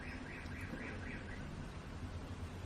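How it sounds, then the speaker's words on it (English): An alarm sounds continuously in the background, a faint repeating wavering tone beneath a noisy ambient wash with no one talking. "I think there's an alarm going"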